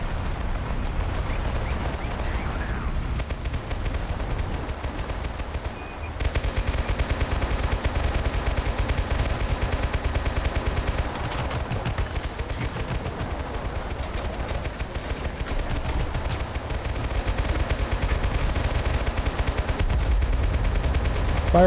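Sustained gunfire on infantry in Total Conflict: Resistance, a Total War campaign, roars as a dense, continuous barrage of overlapping shots and machine-gun fire, loud and unbroken apart from a brief lull near the start.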